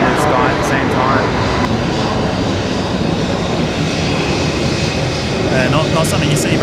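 A Kalitta Boeing 747 departing Brisbane Airport gives a loud, sustained jet-engine roar that fills the whole stretch, broad and steady, with faint voices underneath.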